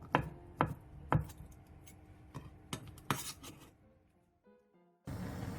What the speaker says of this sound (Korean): 양을 좀 부풀리기 위해 양파와 당근 조금 더 채 썰어주고